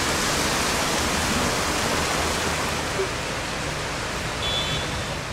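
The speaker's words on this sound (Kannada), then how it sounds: "ಕರಾವಳಿಯಲ್ಲಿ ಮಳೆ ಹುಚ್ಚೆದ್ದು ಸುರಿತಿದೆ." Heavy rain from Cyclone Fengal pours down steadily on the coast of Udupi and Dakshina Kannada, a dense, unbroken roar that fills the whole clip with no pauses.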